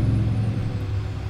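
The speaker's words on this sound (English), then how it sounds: "But the truck sounds nice, man. Sounds nice." A Freightliner Argosy truck pulling a double trailer in Euro Truck Simulator 2, set in South Africa, idles with a steady low diesel rumble and a hissing air-brake release, loud and close, no voices.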